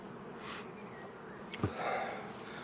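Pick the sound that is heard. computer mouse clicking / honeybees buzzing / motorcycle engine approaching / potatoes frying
honeybees buzzing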